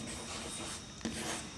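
Chalk or marker rubbing and scratching on a classroom board as Hindi letters are written, soft continuous strokes with a sharper tap near the end, no talking.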